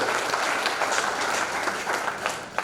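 Audience applause at a state party office-bearers' meeting in Katni, a brief steady wash of many hands clapping, fairly loud and continuous without talk.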